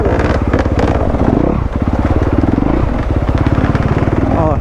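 A two-stroke enduro motorcycle riding just ahead on a trail after flooding, its engine a loud, rapid, buzzing pulse that stays close throughout.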